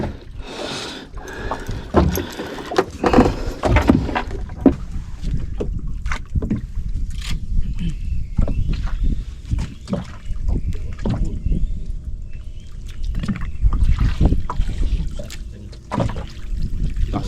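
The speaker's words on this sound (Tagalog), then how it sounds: "Lakas ng makina ano." A small boat's engine runs steadily out on the water at a grouper fishing spot, a continuous rough drone with splashing and wind noise, loud and close.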